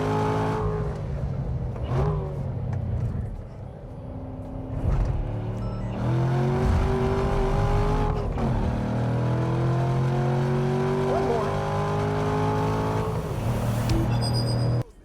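A sports car engine in a racing video game revs and accelerates through rising and falling gear changes, a loud, continuous exhaust drone with shifting pitch, no voices over it.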